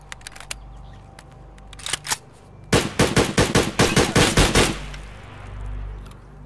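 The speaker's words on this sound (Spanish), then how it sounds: "He intentado disparar de la cadera" Gunfire in the Escape from Tarkov video game: a few scattered sharp shots, then a rapid burst of about a dozen loud close rounds, followed by fading rumble.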